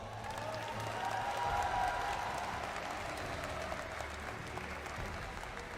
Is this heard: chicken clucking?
no